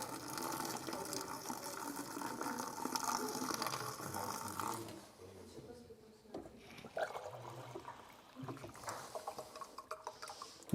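Cool water pours noisily into a vessel for gung fu tea brewing, a continuous rushing splash that stops about halfway through, followed by softer clinks and handling sounds.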